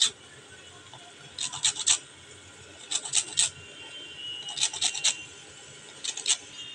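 The green skin of a ridge gourd is scraped off in short bursts of rasping strokes, each group of three or four quick scrapes followed by a pause, up close with no talk.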